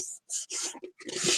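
Close, dry rubbing of alcohol ink being worked onto a gourd's hard surface, a few short strokes with brief pauses between them.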